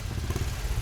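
A motorcycle engine rumbles close by, a steady low throb lasting under a second with no voices.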